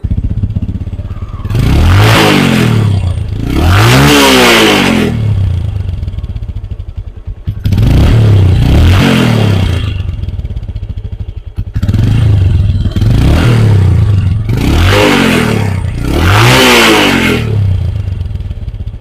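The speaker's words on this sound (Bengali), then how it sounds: "চলুন এই বাইকটি একটু সাউন্ডটা শোনাই আপনাদেরকে।" A Bajaj Discover 135 motorcycle engine is revved hard in three loud close bursts, each rising and falling, with brief idle gaps between them.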